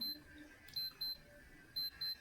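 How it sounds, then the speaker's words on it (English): A Hala digital watch alarm gives off thin, high-pitched beeps in short paired bursts with gaps between them, faint and close against a quiet room. "now the alarm is ringing"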